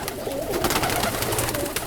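Pigeons, including blue bar and Italian owl birds, coo continuously in a backyard pigeon loft, with several overlapping soft, throaty calls over a busy, rustling background.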